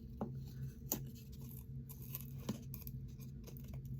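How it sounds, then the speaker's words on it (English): Quiet snipping and scraping of scissors poking a hole through a gift tag, with a few sharp clicks spread over a few seconds against a low steady hum. "So let me get my scissors. Let's see if we can't poke that hole."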